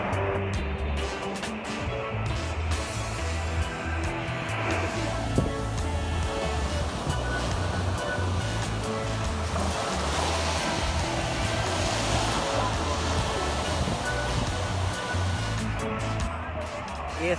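Waves breaking at a beach in Priory, St Ann, Jamaica, a continuous broad wash of surf with wind noise throughout, steady and fairly near, with faint voices in the background.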